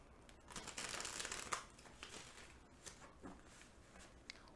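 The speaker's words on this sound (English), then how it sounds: "One more shuffle." Tarot cards are shuffled by hand in a quiet room: soft papery riffles and crinkly rustles come in short, uneven bursts, close and fairly faint, with no voice over them.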